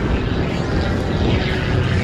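An MXS aerobatic propeller airplane flying manoeuvres, its engine a dense, steady droning roar heard at a distance and holding level throughout, with no voices.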